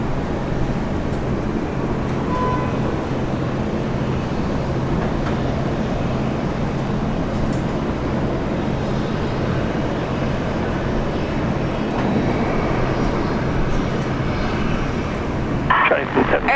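An Alliance airliner in a distinctive livery at Brisbane Airport gives off a loud, sustained jet engine roar that stays steady throughout, with a brief sharper burst near the end.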